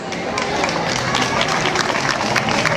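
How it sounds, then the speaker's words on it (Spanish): Audience applause for a Day of the Dead theatre group at a DIF Mazatlán event, a dense, steady wash of clapping from a sizable crowd with faint voices mixed in. "Vamos a pedir un fuerte aplauso para ellos"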